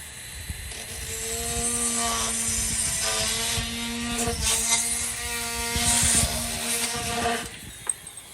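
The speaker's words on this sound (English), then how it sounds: "This is a 1938 Craftsman rotary tool. Essentially, it's a Dremel tool" A vintage 1938 Craftsman rotary tool, a Dremel-style handheld grinder, runs steadily with a high whirring motor whine and faint mechanical rattle for several seconds, close by and alone.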